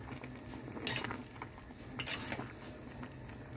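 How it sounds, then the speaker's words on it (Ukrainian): Spaghetti being stirred with a fork in a pot of boiling salted water, with two brief metallic scrapes and clinks over a steady low bubbling hum, close and fairly quiet. "Вилочкою розмішую."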